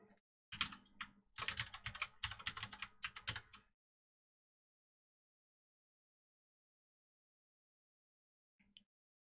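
Password typed on a computer keyboard, a quick run of close, crisp key clicks for about three seconds, then silence with one last faint tap near the end.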